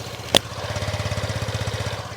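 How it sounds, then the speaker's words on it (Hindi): A Hero Xoom 110cc scooter engine idles close up, a low steady chugging pulse after a brief sharp click at the start. "इस इंजन को आवाज़ सुन लेते हैं। तो भैया इनका ये स्कूटर का इंजन ऐसे,"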